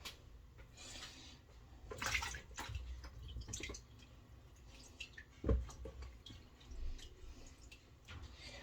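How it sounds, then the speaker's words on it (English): Water sloshes and splashes in a basin in irregular bursts as mushrooms are washed, with drips and a sharp knock partway through, fairly quiet and close. "I put them into water so most of the dirt comes off."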